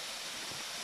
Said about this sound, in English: for me, this is one big waterfall.